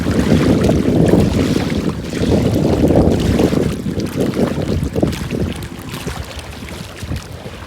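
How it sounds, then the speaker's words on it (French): Heavy, continuous wind buffeting the microphone beside a lake, a loud low rumble that surges and eases, with faint wave sounds beneath. "Il y a du vent. Je sais pas si vous allez bien entendre."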